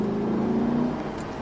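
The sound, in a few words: Lamborghini Gallardo LP 560 accelerating on racetrack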